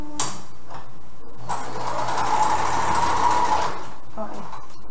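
A sewing machine stitches a cocktail dress in one loud, continuous run of rapid mechanical whirring lasting a couple of seconds, framed by a few short clicks before and after, with someone talking nearby.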